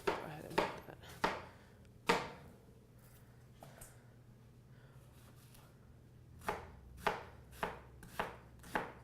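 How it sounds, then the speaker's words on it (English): Knife chopping mushrooms into big pieces on a cutting board, sharp close thuds in a quick cluster at the start, a pause, then a steady run of evenly spaced chops near the end over a low kitchen hum. "You can just, chop pretty big pieces."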